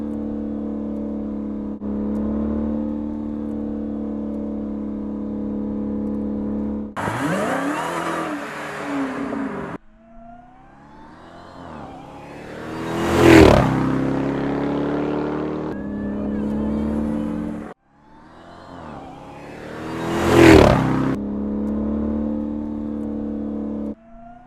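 A 2021 Dodge Durango SRT Hellcat cruises down a highway, its engine droning steadily before surging twice in loud passing rushes with rising wind and tire roar, then easing back to a steady hum.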